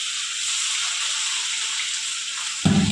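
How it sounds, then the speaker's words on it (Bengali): Fish fries in hot oil with a steady, close sizzle and hiss, ending in a short clunk near the finish; no one speaks. "এখন মা এই যে এটা ভাজছে আর তেলটা হয়ে গেছে"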